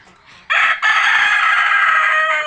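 A rooster on an egg-selling poultry farm crows loudly and close in one long sustained call after a brief break, with faint hen clucking just before it.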